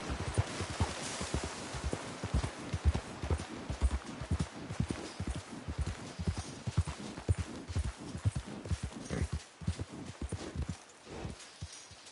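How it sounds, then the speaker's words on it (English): A horse gallops in Red Dead Redemption 2, its hooves clip-clopping in a quick, steady rhythm that carries close and clear for the whole stretch, with no talking over it. "Giddy up."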